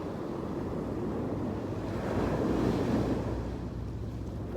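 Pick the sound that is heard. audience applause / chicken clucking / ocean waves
ocean waves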